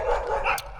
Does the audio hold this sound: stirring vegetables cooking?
no